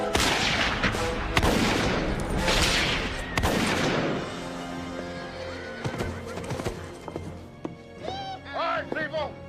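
Gunfire in a TV western set in a frontier town, heard as a run of loud, sharp shots and bursts early on, with horses whinnying and hooves clopping as the shooting fades and voices speak.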